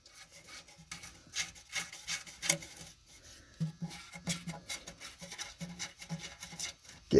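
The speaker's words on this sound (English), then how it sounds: "Get those tightened up with a ratchet." Half-inch heat shield bolts being snugged down with a ratchet during a ZF5 transmission swap on a Bullnose Ford truck, giving a run of close, rasping clicks and scrapes in irregular bursts with no talk.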